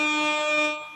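A loud air horn sound effect blares in one sustained, brassy tone with stacked harmonics, holding steady for about a second before tailing off.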